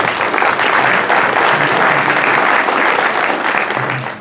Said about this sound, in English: So let's give a round of applause for Ms. Lauren Stroud.